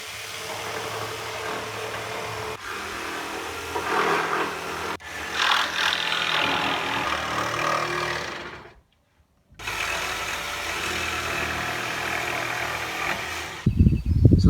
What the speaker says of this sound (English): I just need to trim off the boards that I've put up sort of level with the roof line, so I'm just going to run a jigsaw along there.